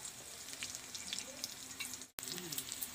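Onion sizzles steadily in hot oil in a pan while parwal, potato and chana curry is being made. The frying is close and continuous, broken by a brief cutoff near the end, with no talking.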